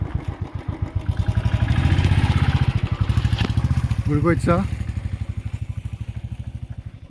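A motorcycle engine runs close by at a hillside temple with a steady, chugging low pulse. Someone talks over it throughout.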